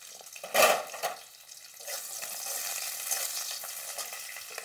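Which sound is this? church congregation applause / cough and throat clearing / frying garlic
frying garlic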